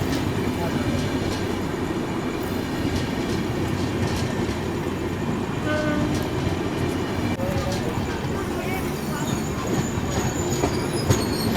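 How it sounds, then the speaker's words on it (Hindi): An express train, the Mannargudi Jodhpur Express, rolls past on the adjacent track near Bhopal while overtaking, a loud, steady rumble of wheels and carriages with occasional metallic squeals, heard up close throughout. "ये मन्नारगुड़ी जोधपुर एक्सप्रेस, इसको ओवरटेक अपन को करना था"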